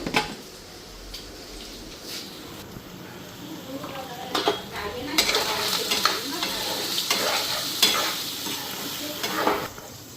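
Soya chunks fry in a pan with turmeric, salt and chili powder, a steady close sizzle broken by repeated scraping stirs and metal clinks of a spoon against the pan.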